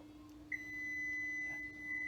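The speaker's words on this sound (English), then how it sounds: "It'll beep at you if you leave something on and you have the keys with you." Toyota Avalon warning chime: a single steady high-pitched tone starts about half a second in and holds continuously to the end, moderately clear over a quiet cabin hum.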